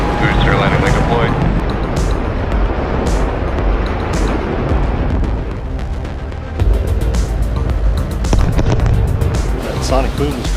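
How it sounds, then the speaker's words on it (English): A SpaceX booster landing gives a loud, continuous rumbling roar that fills the whole stretch, with crackling bursts layered over the deep noise and crowd voices mixed through it. "That sonic boom is great for us."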